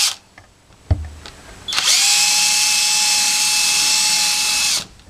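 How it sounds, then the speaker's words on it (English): A power drill reams out a rivet hole while fitting a deck lashing and paddle catch, giving a sharp tap, then a steady high-pitched whine for about three seconds before stopping abruptly. Close and loud, with no talking. "so you may have to ream it out a little."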